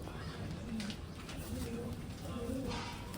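Old line racing pigeons coo in low, repeated murmurs amid a steady background hiss, with several overlapping calls spread across the stretch.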